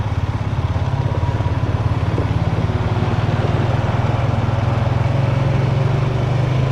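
An ATV engine runs steadily and loudly throughout, with a continuous low droning rumble as the machine is shifted down through its gears.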